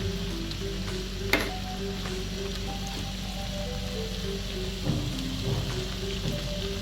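A pan of tomato sauce simmers and sizzles steadily with soft bubbling and occasional light clinks of a utensil, close by and fairly quiet.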